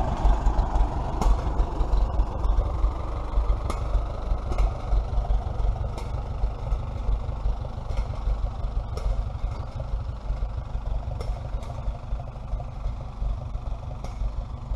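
A lineup of seven farm tractors idles together, a low, steady diesel rumble with light mechanical clatter and occasional sharp ticks, continuous and fairly close, with no talking.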